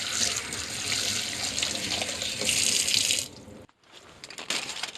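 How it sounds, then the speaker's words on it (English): Cold tap water runs hard into a sink as a caught fish is rinsed, a loud steady gush that cuts off abruptly, followed by a few brief splashes and drips. "Now I'm going to rinse it off in cold water."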